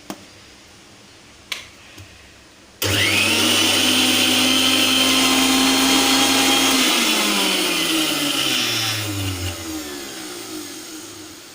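A kitchen mixer grinder spins up loudly after a few clicks, whirring steadily as it grinds soap ingredients with a little water, then winds down as the motor slows and stops.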